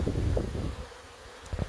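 Low, steady insect buzzing from many honeybees at a six-frame hive, a continuous hum with a few slightly louder passes near the end.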